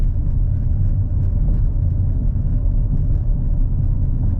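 Tyres of a 2024 Audi RS 6 Avant rolling over road reflectors, heard as a loud, continuous low road rumble and drone from inside the car with no speech.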